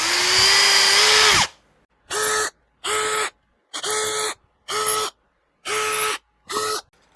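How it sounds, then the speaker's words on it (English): A power drill whines in a long burst while drilling through 3mm on a Telecaster-style guitar build, then runs in six short, evenly spaced bursts with silent gaps between them, loud and close. "The last thing I'm going to do now is just drill through 3mm."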